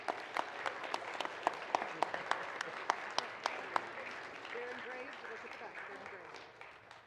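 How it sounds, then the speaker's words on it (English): Applause at an elementary school graduation ceremony: a few loud individual claps ring out close by over a softer crowd, then the clapping thins and fades into the room's murmur. "please give a round of applause to Owen and Mariah and their families"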